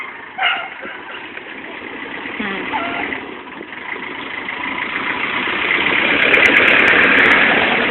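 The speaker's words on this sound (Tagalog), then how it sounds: "Sabi, be, may jeep, ah." A jeep engine idles steadily throughout, with a voice briefly audible near the start and a faint rattling texture building toward the end.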